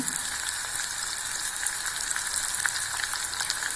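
Ground red chili paste sautéing in a pan for fenugreek kulambu, a dense, even sizzle with fine popping crackles throughout, close and steady, no voices.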